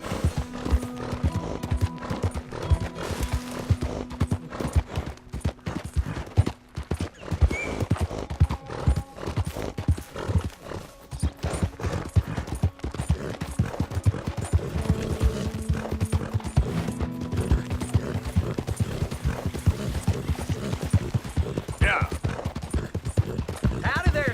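Steady horse hooves clip-clop through the whole stretch in Red Dead Redemption 2, mixed with game ambience and occasional speech, with a brief whinny partway through.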